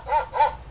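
A recorded dog from a children's sensory sound book, two short barks about a quarter second apart, clear and close, with nothing else in the background.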